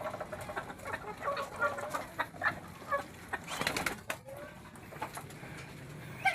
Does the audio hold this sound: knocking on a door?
no